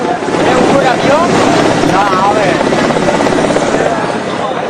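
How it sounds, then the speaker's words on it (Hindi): An army rescue helicopter flies over floodwater, its loud, steady rotor roar filling the whole stretch, with what may be voices faintly beneath it. "सेना के हेलीकॉप्टर ने पहले जल प्रलय का मुआयना किया"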